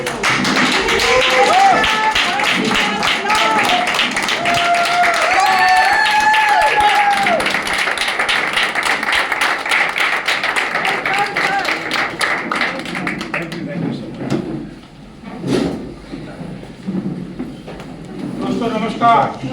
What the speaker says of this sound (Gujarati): એ એમનેમ નહીં આવે પણ જોરદાર એનર્જી સાથે જોરદાર ક્લેપિંગ સાથે એમને ઇન્વાઇટ કરી